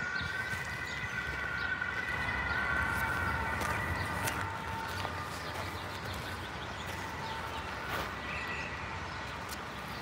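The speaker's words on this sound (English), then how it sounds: "Another siren. There's a lot going on here. Now it's not an ambulance, it's the police." A police car siren sounds across a city street among high-rise buildings, a steady wailing tone heard from some distance over constant urban traffic rumble.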